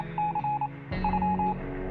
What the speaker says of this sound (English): let's tune in with our radio then